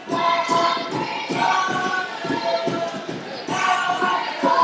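A home crowd cheers and shouts at a high school boys basketball game, a loud, lively wash of voices swelling in waves with repeated bursts throughout.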